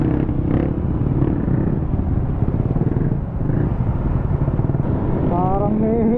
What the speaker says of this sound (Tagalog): Parang may rally ng motor ah.